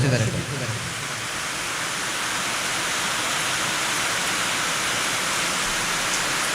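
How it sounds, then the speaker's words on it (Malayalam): Heavy rain pours down in a dense, steady hiss that fills the whole stretch, loud and unbroken with no other sounds standing out. "കുറച്ച് ദിവസങ്ങൾക്ക് ശേഷം നല്ല മഴയാണ്"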